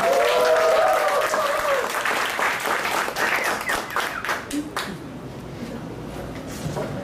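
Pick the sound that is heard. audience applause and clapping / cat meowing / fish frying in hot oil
audience applause and clapping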